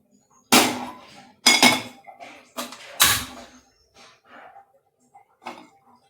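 A metal pressure cooker and pots clank and thud against a kitchen surface several times in close succession, followed by softer scraping and a final knock.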